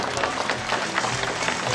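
Audience applause welcoming a guest at a Korean book launch event, a dense, continuous wash of many hands clapping in a hall, fairly loud and steady throughout with no speech over it.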